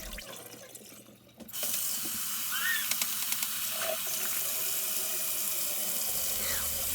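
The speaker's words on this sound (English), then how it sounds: "First, we're going to be rinsing the chilies." Steady tap water splashing into a sink as dried chilies are rinsed, a close, constant gush of running water with faint clinks.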